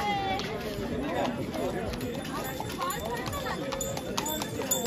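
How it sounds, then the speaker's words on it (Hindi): Horses ridden along a busy snowy hill-town street in Shimla clop steadily on the pavement amid a crowd's chatter, with hoofbeats fairly close and continuous while people talk nearby. "ये देखो घोड़े घोड़े सब सवारी कर रहे हैं"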